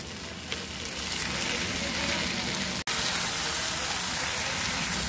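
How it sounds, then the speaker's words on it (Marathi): Wild amaranth leaves are stir-fried with onion in a pan, producing a dense, steady sizzle that fills the whole stretch, broken by one brief cut-out partway through, with no talking. "आता आपण भाजी टाकून घेतली, त्याला चांगलं परतून घेऊयात"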